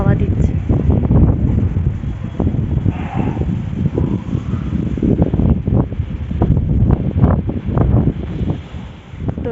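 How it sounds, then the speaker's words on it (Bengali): Strong wind gusts buffet an outdoor rooftop during a heavy rainstorm, roaring loudly and continuously across the whole stretch, with a person talking over the blustery noise. "এত হাওয়া দিচ্ছে।"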